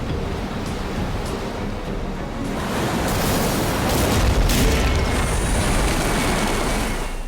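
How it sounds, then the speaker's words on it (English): Giant ocean wave crashing into a boat stranded on a Pacific coral reef: a loud, broadband roar of surf and rushing water that swells and peaks midway, then sustains as a heavy wash, with no speech. "This giant wave hits the boat."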